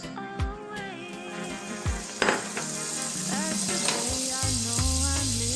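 Butter melts and fries in a pan as the base of a roux for a mushroom fondue savoyarde. A moderate sizzle with a few clinks and utensil knocks plays under a man's speech.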